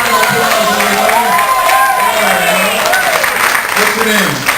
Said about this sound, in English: Give her a big round of applause, everybody.